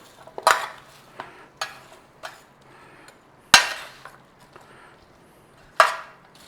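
Sausages, apples, onions and peppers stirred in a tray, giving scattered scraping knocks and a few sharp clacks of utensil against the metal pan, close and irregular.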